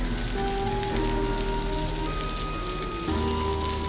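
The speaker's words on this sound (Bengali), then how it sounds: "মুষলধারে বৃষ্টি হয়" A heavy downpour at the Mirpur national zoo in Dhaka makes a dense, unbroken hiss of rain on surfaces, with a faint steady hum underneath and no voices.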